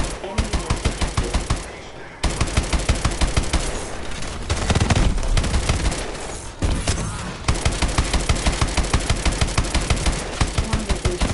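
Main gun fire in Call of Duty Advanced Warfare: long runs of rapid, evenly spaced loud shots in repeated bursts, broken by brief pauses and a rumbling stretch, with voice callouts mixed in.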